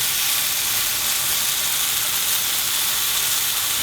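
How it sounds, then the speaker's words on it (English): Loud, continuous sizzling of tempeh searing in hot oil in a pan, a steady bright hiss with no pauses or voices. "Got a beautiful sizzle, as you would with a piece of meat"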